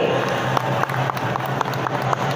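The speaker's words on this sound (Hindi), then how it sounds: "और जोरदार तालियों की गूंज भी होनी चाहिए" Applause from an audience at a public event where the Chief Minister inaugurates a college in Jamshedpur, a steady dense wash of clapping that runs throughout the clip.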